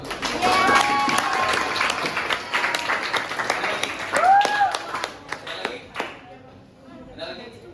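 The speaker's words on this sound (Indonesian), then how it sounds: "Bisa tepuk tangan nggak buat?" Audience applause at a public speaking event, a dense wash of clapping filling most of the clip with voices mixed in, then tapering off toward the end.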